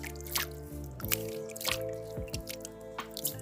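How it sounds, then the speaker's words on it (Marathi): Wild tubers are rinsed by hand in a standing pool of rainwater outdoors, giving soft close drips, splashes and squishy sloshing in an irregular rhythm, fairly quiet. "आपण आता व्यवस्थित धुवून घेतो आहे पाण्यामध्ये"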